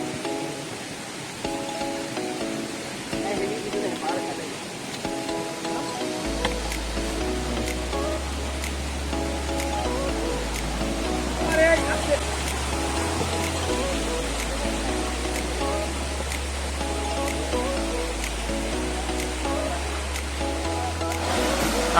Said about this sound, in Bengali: প্রচুর কাদামাটি, পানির কলকলানি আওয়াজ।